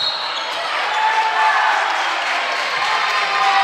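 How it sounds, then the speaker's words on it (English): Basketball fans cheering a foul call during a school gym championship game, a steady loud crowd roar sustained throughout with faint ball bounces underneath. "emphatically cheering for that foul call"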